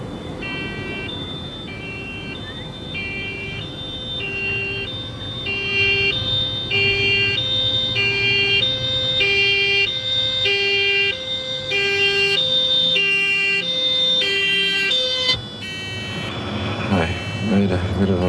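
A loud two-tone ambulance siren wails back and forth in a steady repeating rhythm, close by, then breaks off near the end into clattering noise.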